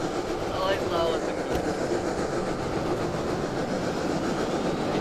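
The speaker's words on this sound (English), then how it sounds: "This train is going 50 miles per hour." Train running along its track in the Roblox game, a steady rumbling roll with faint clatter holding throughout, with voices heard alongside.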